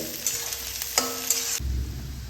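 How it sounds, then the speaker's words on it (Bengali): Sliced onions and potatoes frying together in a pan for a spicy mourala fish curry give a steady close sizzle, with a few stirring scrapes; the crackle drops to a softer, lower hiss near the end. "আলুর সঙ্গে এবার পেঁয়াজগুলোকেও ভেজে নেব"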